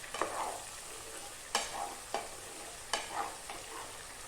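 Chicken masala mixture fried with cumin in a pan, stirred in several distinct scraping strokes over a steady close sizzle, with no voices.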